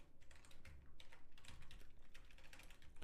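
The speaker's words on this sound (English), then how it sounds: "let's go ahead and type this in" Steady typing on a computer keyboard, soft rapid keystrokes in a continuous irregular patter, close but faint.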